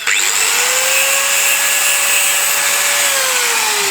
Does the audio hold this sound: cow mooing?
no